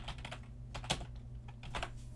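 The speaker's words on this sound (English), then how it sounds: "Are you actually typing that down?" Keys clatter on a computer keyboard in a quiet podcast room, a few bursts of close typing with short pauses between them, alone without speech.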